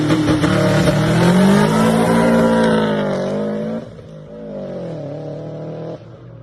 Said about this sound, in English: I was doing two-step launches